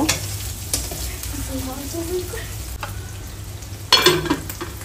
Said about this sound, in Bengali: এখন আমার বোন বাঁধাকপি অ্যাড করে দিচ্ছে।